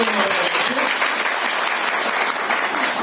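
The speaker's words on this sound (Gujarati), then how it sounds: "આપણે જોરદાર તાળીઓ." Crowd applause at an Ambedkar Jayanti speech event in Kantasar, a loud dense burst of clapping from many hands, steady and close throughout.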